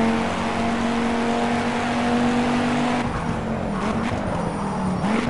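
A Formula 1 car engine in the racing game Project Cars, driven on a wet track in the rain, drones loud and steady with a sustained high whine, then its pitch shifts and wavers partway through. No one speaks.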